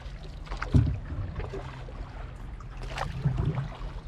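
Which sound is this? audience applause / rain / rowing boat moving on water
rowing boat moving on water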